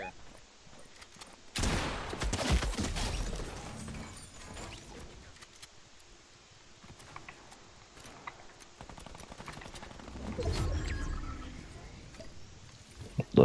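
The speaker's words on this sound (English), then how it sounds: "That fool's just shooting us." Fortnite gunfire crackles in two loud, dense bursts, one early and a second toward the end, set against quieter mechanical game noise and faint talk.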